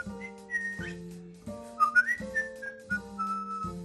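A person whistles a short, wavering melody to a pet bird, clear and close, with no talking.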